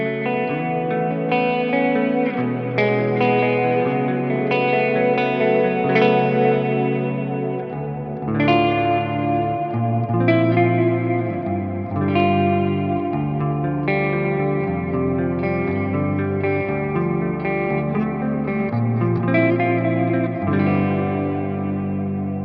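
An electric guitar plays slow clean chords and melodic notes drenched in lush, shimmering Plex reverb and chorus, each tone washing into a long ambient tail.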